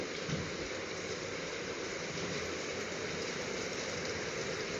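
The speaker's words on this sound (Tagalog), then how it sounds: "ganito mga medyo malakas ng ulan" Heavy rain pours down in Palawan, a dense, steady hiss that stays loud and even throughout with no voices.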